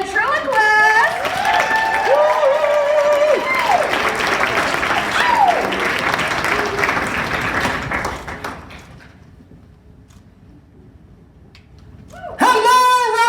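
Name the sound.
audience applause for ventriloquist at puppet slam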